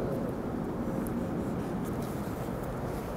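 A pen scratching numbers and a minus sign onto a writing surface during a math lesson, steady and close, with no talk.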